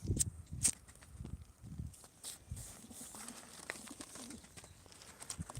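Pigeons in a coop, heard as soft low cooing murmurs in short phrases, with faint rustling, wing flutters and light scuffing nearby, all quiet.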